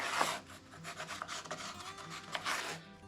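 A pencil scrapes along the edge of a template while tracing an outline on a soffit board, in short rasping strokes of rubbing graphite on wood, close and fairly quiet with brief gaps between passes.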